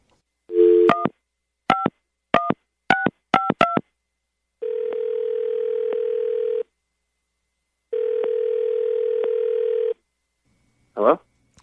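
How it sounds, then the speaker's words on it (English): Telephone number dialed on a phone line before a radio-show call: a quick series of about seven touch-tone beeps, then two long steady ringback tones with pauses, ending in a brief warbling blip as the line connects. "All right, I'm going to dial him right now."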